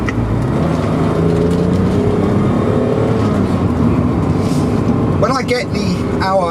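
A BMW E28 M5 with its 24-valve twin-cam straight-six runs loud and steady under way, a sustained engine drone that climbs in pitch near the end, with a voice talking over it.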